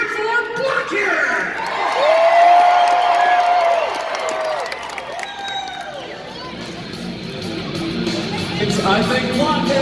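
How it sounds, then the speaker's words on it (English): A crowd at a Loveland, Colorado dozer wheelie contest cheers and whoops for Blockhead, loud close shouting and yells mixed with babble that swell early and then ease into steady background noise. "And who's cheering for Blockhead?"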